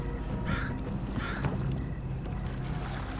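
Crow caws in the Sherlock Holmes The Awakened video game, two harsh calls near 0.5 and 1.2 seconds over a steady low ambient rumble of water and wind, no talk.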